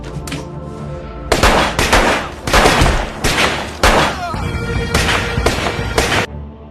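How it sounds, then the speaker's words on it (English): Loud bursts of rapid gunfire ring out in several volleys, separated by short pauses. "gunshots rang out"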